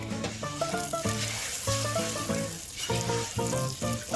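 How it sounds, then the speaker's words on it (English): Orzo pasta sauteing in a pan for Turkish pilaf, a steady close sizzle with faint stirring scrapes running continuously throughout, with no voices. "Then you're going to start sauteing the orzo."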